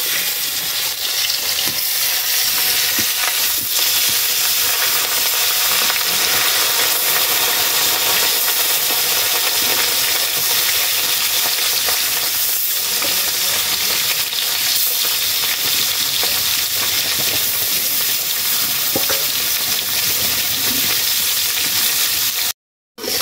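Pond-caught fish frying in hot oil give off a loud, dense, unbroken sizzle close by, with faint crackles running through it for a long stretch before it cuts off abruptly at the very end; no one speaks.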